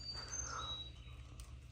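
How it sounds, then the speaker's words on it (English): Wild birds call faintly on a misty, overcast, warm January morning in Georgia, giving a few thin distant chirps and whistles over a low steady rumble. "the birds are calling"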